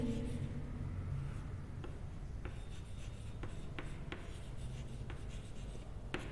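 Pen or chalk writing out the metal names of the reactivity series during a science lesson, heard as faint scratchy strokes over steady background hiss.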